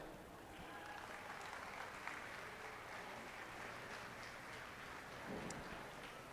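Steady applause at a lamb show for the young exhibitors, a wide, soft wash of clapping from a distant crowd that holds evenly throughout.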